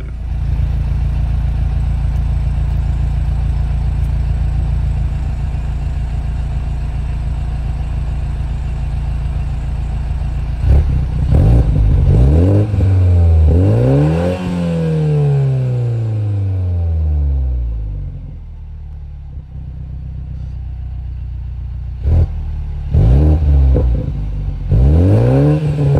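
A Toyota GR Supra 2.0 with stock exhaust idles steadily, then gets blipped through a few sharp revs in sport mode and again in regular mode, each rev climbing and falling back, loud and close.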